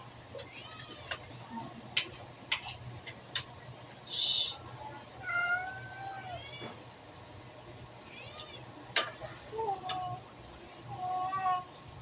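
Several cats meow repeatedly in a home during a lunchtime meal, with rising and falling cries scattered over a steady low hum and occasional sharp clicks, moderately close but not loud.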